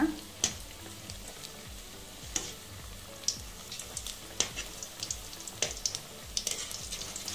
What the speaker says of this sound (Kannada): ನೋಡಿ ಫ್ರೆಂಡ್ಸ್, ಈಗ ಎಣ್ಣೆಲಿ ಡೀಪ್ ಫ್ರೈ ಮಾಡ್ಕೊಳ್ಳೋಣ.